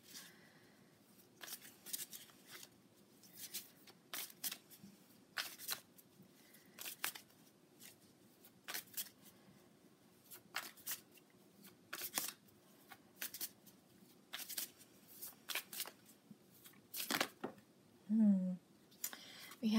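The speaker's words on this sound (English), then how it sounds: "I am going to pull a card from my moon deck." A tarot moon card deck is shuffled in a quiet room, with many quick, crisp riffling bursts repeating unevenly, close and fairly soft.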